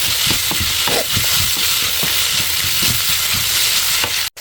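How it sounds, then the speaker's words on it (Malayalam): Shallots fry in hot oil in a pan while being stirred, giving a continuous loud sizzle broken by repeated scraping strokes of the spoon, close up, with a brief cut near the end. "ഇത് നന്നായിട്ട് വഴറ്റട്ടെ കേട്ടോ, സമയം എടുപ്പിച്ചിട്ട്."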